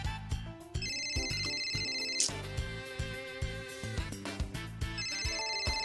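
A phone plays a melodic electronic ringtone for an outgoing call, a tune that repeats steadily and fills the whole stretch without any speech over it.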